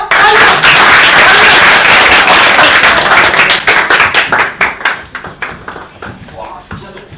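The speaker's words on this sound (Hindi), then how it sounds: "तालियां।" Audience clapping at a live Hindi comedy and satire show, a loud burst of many hands that holds strong, then thins into scattered individual claps that taper off toward the end.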